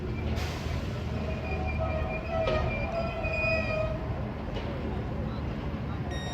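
A Class 395 electric unit, 395019 Jessica Ennis, pulls out of Sittingbourne station with a steady, close rumble of wheels on rail and thin squealing tones drifting above it the whole way.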